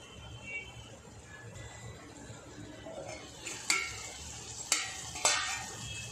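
Ridge gourd sabzi cooking in a pan, with a soft sizzle underneath and a spoon or spatula stirring and scraping, ending in several sharp metallic clinks against the pan; quiet and close, with no talk.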